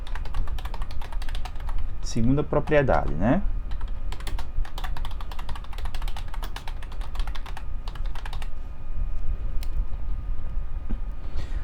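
Fingers tap steadily and quickly on a computer keyboard, with dense clicking that runs throughout, while someone speaks briefly near the start.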